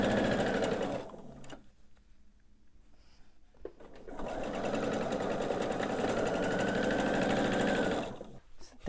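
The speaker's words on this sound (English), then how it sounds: "So there we go, we have those sewn." Close, loud sewing machine chain-piecing quilt blocks: a steady mechanical run, a pause of near quiet, then a second longer burst of stitching that stops near the end; no talking.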